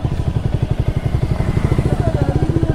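A Honda CBR 250R or Kawasaki Ninja 300 motorcycle engine revs steadily up close, its pulsing rhythmic exhaust throb loud and continuous with a slight clatter throughout.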